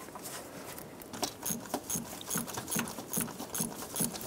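Ratchet clicks while spark plugs are tightened into the engine of a 2005-2009 Subaru Outback, a steady series of short, evenly spaced ratcheting bursts up close with no talking.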